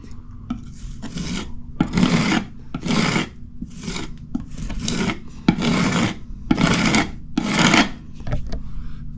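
A drywall knife spreads joint compound over a patched hole in a swirled, rough-textured wall, giving repeated rasping scrapes in a steady rhythm of about eight strokes, close and fairly loud, with no voices.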